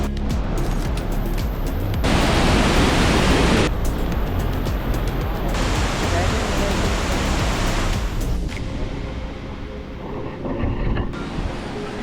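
Rushing water at Bomburu Ella waterfall, a loud continuous broadband roar close by, swelling and shifting in intensity as the view changes, with no speech.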